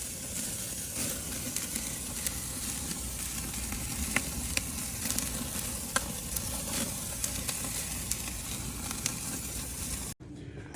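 Chicken quarters sizzle skin side down on a grill as the skin renders, a steady loud hiss with scattered pops and crackles throughout, cutting off abruptly near the end.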